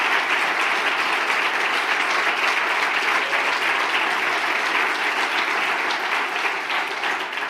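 A dense, sustained round of applause from an audience honoring a journalist at a feminist-themed event, even and full from start to finish with no voices over it.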